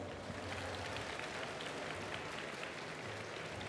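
Crowd at Japan Expo 2019 applauding guests at a Fire Emblem: Three Houses masterclass, a steady, even wash of distant clapping from a large hall with no voices over it.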